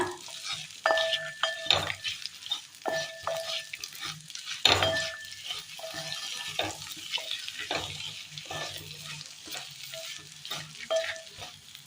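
Prawns cooked with a sautéed raw banana masala are stirred in a frying pan, a spoon scraping and clinking against the metal in irregular strokes over a soft, steady sizzle, close and fairly quiet.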